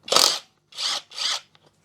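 Impact gun on a Daihatsu Charade zips a bolt off in three quick bursts, one long whirr followed by two shorter ones, loud and close with brief pauses between and no talking.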